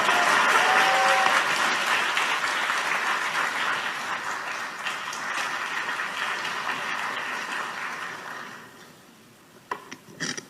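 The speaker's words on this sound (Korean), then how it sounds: "큰 박수로 맞이해 주시기 바랍니다." Audience at a youth council assembly applauding to welcome a speaker, dense and steady clapping that slowly fades out near the end, followed by a few faint knocks.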